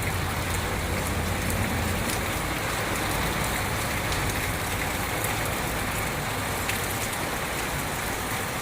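Steady rain falls continuously, an even hiss of drops on surfaces with no breaks, heard without any talking.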